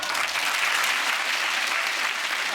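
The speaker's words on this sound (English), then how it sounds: "The crowd are absolutely ecstatic with this one." A studio audience on a chat show bursts into loud, dense applause with cheering, a steady wash of clapping that holds for the whole moment.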